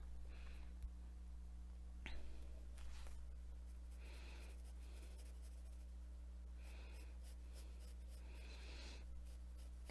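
A Derwent pastel pencil shades on paper with soft, faint scratchy strokes that come in short bursts, close up over a steady low background hum.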